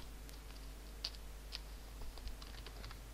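Soft, scattered keystrokes on a computer keyboard while JavaScript console code is entered, faint and close over a low steady hum, with no voice.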